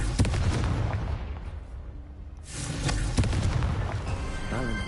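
Confringo spell blasts in the Hogwarts Legacy game erupt as loud, booming explosions, a dense rumbling burst at the start that fades briefly before another heavy crackling blast swells and rolls on.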